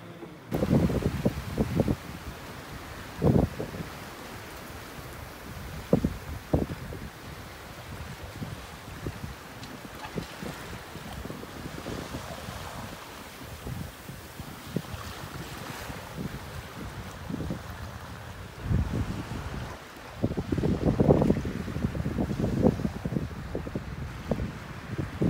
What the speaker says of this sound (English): We're motor sailing down Principe channel here.